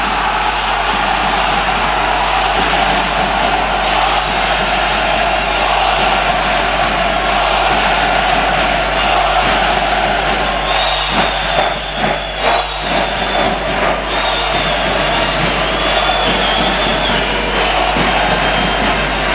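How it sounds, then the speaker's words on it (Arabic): Crowd roar fills a basketball arena during a Homenetmen versus ESS game in the Hussam Eddine Hariri tournament, a dense, steady wash of cheering with a loud, continuous swell and scattered shouts rising out of it. "اسمعوا الجمهور"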